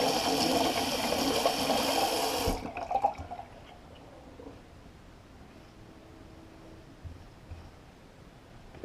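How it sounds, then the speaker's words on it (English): Cold tap water runs steadily to rinse a Karve razor, a full rushing splash that shuts off abruptly after a couple of seconds, leaving only faint drips and small handling sounds. "Let me do a cold rinse."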